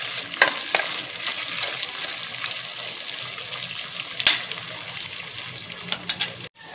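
Paneer pulao mixture with roasted cashews and shallow-fried onion stirred in a pan, a steady sizzle broken by sharp scrapes and clinks of the spoon, loudest near the start and middle, with a final knock.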